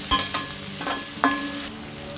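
Chopped onion sizzles in a pan while it is cooked for aloo gobi, with a few sharp stirring scrapes breaking through the steady crackle.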